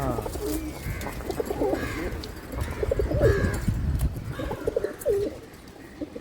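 Kozhikode pigeons coo in a loft, a run of low repeated throaty calls from several birds over a busy background murmur, close and fairly loud.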